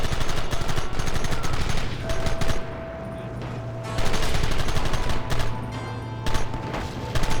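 Gunfire rattles through a Red Dead Redemption shootout, with rapid volleys of close, loud shots in bursts, a short lull, then renewed firing over rumbling game noise.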